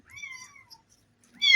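A kitten gives two short, high meows with a quiet gap between them, the second louder and sharper, heard alone and close by.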